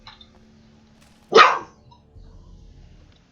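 In the video game Alan Wake, a dog gives a single loud, sudden bark close by, breaking through near silence, followed by a faint low rumble.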